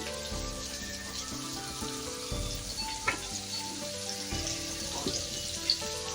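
A little oil sizzling hot in a fresh pan for beerakaya roti pachadi, a steady bright crackle throughout with a few soft knocks and taps of the pan.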